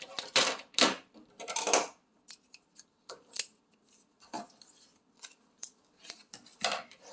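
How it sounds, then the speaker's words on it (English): Scissors snip through fabric strips for a rag wreath in a run of crisp, separate cuts with short pauses between them, close and fairly loud, with no talking. "I'm just cutting out a few pieces."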